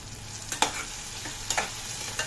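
Drumstick leaves frying in oil in a pan for kichidi, a close, steady sizzle broken by a few sharp spatula stirs and crackling bursts.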